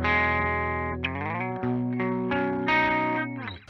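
A clean electric guitar rings out through an amp, sustained chords with clear harmonics, changed every second or so, loud and close with no voices.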